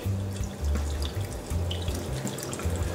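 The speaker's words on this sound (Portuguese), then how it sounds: "vamos pôr aqui a nossa água ardente, a nossa pinga de cana." Cachaça cane spirit is poured into a glass while making a caipirinha, a close liquid splashing and trickling in short pulses.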